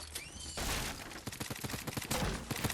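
Gunfire from the video game Fortnite crackles in a loud, rapid burst of shots, close and sharp, some shots overlapping in a fusillade.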